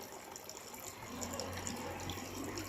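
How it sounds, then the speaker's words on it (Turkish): Water running from a pipe in a log fountain, pumped around by a motor, a steady splashing gush that grows a little louder partway through, with faint talk in the background. "Buradan borudan tekrar buradan böyle geliyor su"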